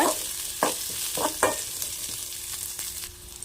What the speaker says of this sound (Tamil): கொஞ்சமாக ஜீரகம் ஆட் பண்ணிக்கிறேன் எல்லாத்தையும் நல்லா வதக்கிக்கோங்க எண்ணெய் கொஞ்சமாக மட்டும் ஆட் பண்ணிக்கோங்க